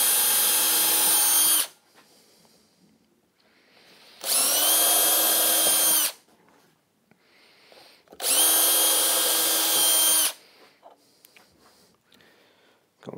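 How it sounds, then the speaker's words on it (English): A power drill pilot-drills holes in wood in three sustained, loud whining bursts of about two seconds each. Quiet gaps with faint handling noises separate them, and no one speaks. "just going to pilot drill these now"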